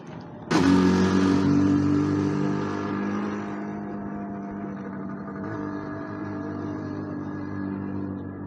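A car pulls off and drives along a village road, its engine loud and close as it accelerates, then settling into a steady, slightly quieter hum as the drive continues, with no talking.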